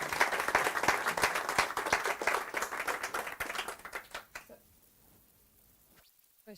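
Audience at a Docker London tech meetup applauds after a microservices talk, loud brisk clapping that thins out and dies away after about four seconds, leaving near silence and a final faint noise.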